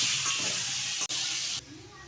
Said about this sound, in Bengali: এবার আমি আলুগুলো লাল লাল করে ভেজে নেব।